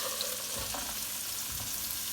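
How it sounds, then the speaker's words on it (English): Chopped onions hitting hot oil in a pan for paella, a steady close sizzle and crackle with faint stirring and no talk. "I got oil, and so I'm gonna start cooking"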